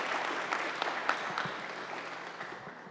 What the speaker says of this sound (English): So let's give him another applause.